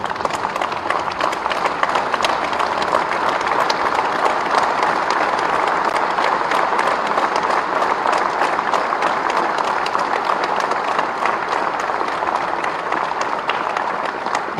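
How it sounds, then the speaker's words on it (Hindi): An audience at a chamber of commerce convention in Raipur stands and applauds to welcome the chief minister, producing loud, dense clapping that holds steady from start to finish. "मैं सबसे रिक्वेस्ट करूंगा अपने अपने जगह खड़े होके ताली बजा"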